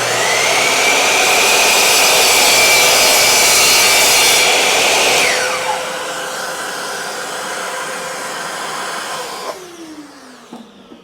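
A Bosch Glide CM10GD 10-inch mitre saw cuts wood with a loud, close motor whine. The pitch drops as the blade bites into the wood, then the motor winds down toward the end.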